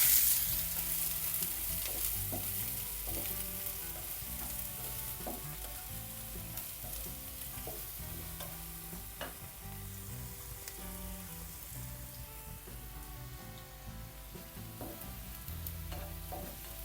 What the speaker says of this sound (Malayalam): കടുകെല്ലാം പൊട്ടി അതിനകത്ത് ഒരു വലിയ സവാള കൊത്തി അരിഞ്ഞത് അത് കൊടുക്കാം.